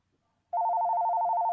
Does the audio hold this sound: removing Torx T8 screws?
no